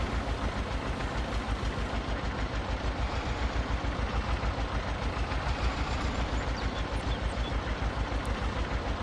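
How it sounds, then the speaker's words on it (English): A small tractor engine in the Farming Simulator 22 game runs loud and steady throughout, with a rapid, even chugging pulse on a vintage farm. "If this little tractor cannot handle... Hello, there we go. Oh, it's very loud as well."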